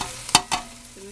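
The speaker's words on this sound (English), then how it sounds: "I'm going to brown this" Deer meat for chili, added to softened vegetables in a pan, with two short sharp scraping stirs over a faint sizzle, close up, no voices.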